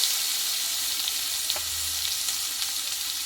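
Ginger and garlic paste frying with turmeric in a pan for a Bengali mutton curry, a steady close sizzle with a few light stirring clicks, no talk.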